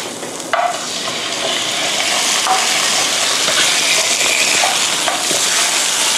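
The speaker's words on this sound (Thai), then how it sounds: "ผัดให้เข้ากันนะคะ" Pork ribs stir-fry with chili and garlic in a little oil, filling the clip with a loud, continuous sizzle and hiss. Occasional utensil scrapes and clanks sound against the pan. No one speaks.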